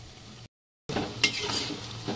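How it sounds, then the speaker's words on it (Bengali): Lentil fritters frying in a pan while being stirred, giving a close crackling sizzle with scraping utensil sounds, broken by a short silent gap, and no talk. "আমার বড়াগুলো ভাজা হয়ে গেছে"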